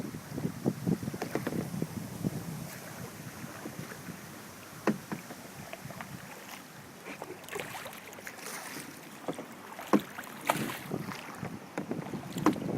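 A boat is rowed on a lake, with scattered splashes and knocks of oars against water and hull over wind buffeting the microphone, fairly faint and irregular.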